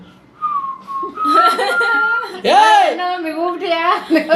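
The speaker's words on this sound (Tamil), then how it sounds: "விசில் தானே அடிச்சேன் சும்மா" A person whistles a melodic tune up close, with clear sustained and gliding notes in short phrases, interrupted by voiced, playful sounds and a brief chuckle.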